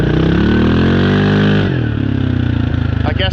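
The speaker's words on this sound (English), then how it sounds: "I guess I'm just going to have to live with the pops and crackles." A Yamaha Grizzly 700 ATV with its AIS blocked off runs loud and close, engine revving up then dropping off with crackling pops on the decel, sputtering bursts toward the end.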